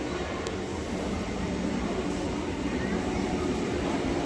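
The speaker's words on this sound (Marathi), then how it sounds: "गाडी आलेली आहे, लोकल आलेली आहे." A steady, loud rumbling roar of a local train arriving at a station fills the whole stretch, continuous and close, with no clear pauses.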